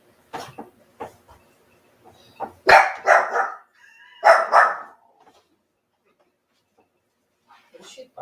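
Tessa the dog barking at a moving table in a home kitchen, a few sharp close barks in short bursts with pauses between, followed by quiet and a faint voice at the very end.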